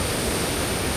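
Fast-flowing stream water rushes near Adivaram waterfall at Poonjar in Kerala, giving a loud, steady, dense roar with no breaks and no voices.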